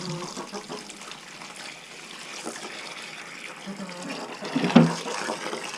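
Water trickles and fills as it is poured out for the farm's hens in freezing weather, a soft continuous splashing that builds slightly near the end, close by and moderate in level.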